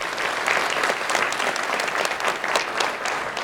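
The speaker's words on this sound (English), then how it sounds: "Let's give them a round of applause and say thank you" An audience applauds steadily at an evening event, a dense wash of many hands clapping continuously and fairly loud throughout.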